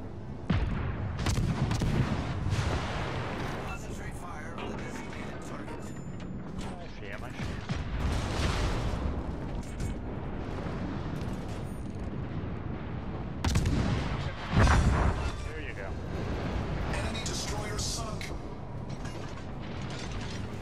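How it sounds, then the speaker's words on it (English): Warship guns fire in the naval video game World of Warships: Legends, with repeated heavy booming bursts mixed with mechanical clanking and whirring over a continuous busy game soundscape. "Concentrate fire on the enemy warship"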